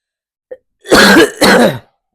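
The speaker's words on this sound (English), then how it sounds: "Sorry in advance if I'm blowing my nose or coughing in this video" Two harsh, throaty throat-clearing coughs in quick succession, close and fairly loud, preceded by a tiny click; no talking.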